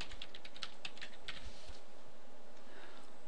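Typing on a computer keyboard, rapid close key clicks in an uneven burst that thins out toward the end, with no talking.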